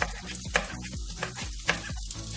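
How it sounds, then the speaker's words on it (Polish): Onions, peppers and mushrooms frying in a pan with sugar give off a steady sizzle, with a spatula scraping and stirring in a regular rhythm about twice a second. "I czekamy, żeby pieczarki się usmażyły."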